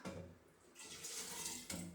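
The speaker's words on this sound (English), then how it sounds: "Rinse it off with water again" Tap water runs and splashes while a glass hydrometer is rinsed off for wine-making, a steady close rush that rises partway through and briefly surges again near the end.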